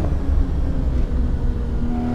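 A car driven on the Col de Thannenkirch map in Assetto Corsa, its engine droning steadily and loudly with a low rumble and a held tonal whine, no voices.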